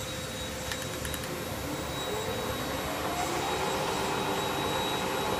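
Milltronics CNC/manual flat bed toolroom lathe with the spindle turning at 20 RPM in low range, a steady mechanical hum and whine with faint tonal ringing, continuous and moderately loud.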